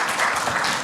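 Seminar audience breaking into applause for a presenter at an architecture center's anniversary event, a brief, fairly loud burst of many hands clapping with no voices over it.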